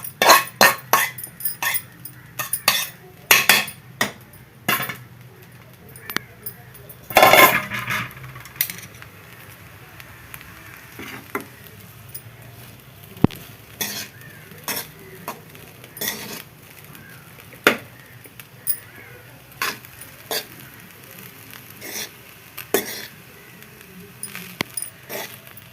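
Leftover vegetable fried rice being transferred from a pan, heard as scattered metallic clinks and scrapes of utensil against cookware, some sharp and loud, spread irregularly over a quiet background.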